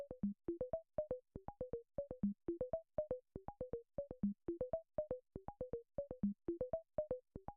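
An Elektron Analog Four mk2 synthesizer plays a fast repeating sequence of short, plucky notes whose pitch and tone shift from step to step in a looping pattern as filter frequencies change.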